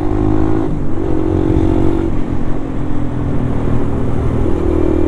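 A Suzuki VanVan's big single-cylinder engine, on a bike with a fat rear tyre, runs steadily and loud while riding, holding revs with little drop in a continuous close drone.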